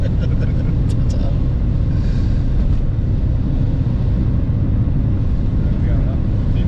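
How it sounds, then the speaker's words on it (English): A Renault Clio 172 climbing a hill in fifth gear on an outback road in Australia, heard from inside as a loud, steady engine drone and road rumble that continues without a break. "Going up, fifth gear, up a hill."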